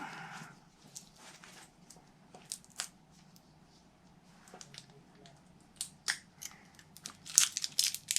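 Scissors cut apart pieces of stamped paper for a skinny milk carton craft project, giving a string of soft, close snips and paper rustles at a quiet level, growing busier and sharper toward the end.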